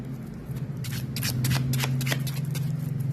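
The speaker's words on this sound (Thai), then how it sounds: "เรามาขยายไพ่กันนะ" Tarot cards spread out across a table, a quick burst of sliding, flicking card sounds in the middle over a steady low background hum.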